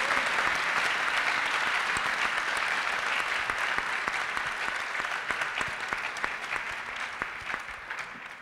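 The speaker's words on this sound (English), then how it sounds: "Can we also have a big round of applause for our co-chair, Andrew Bandelli?" A crowd claps steadily for several seconds, a dense, sustained applause that slowly tapers toward the end.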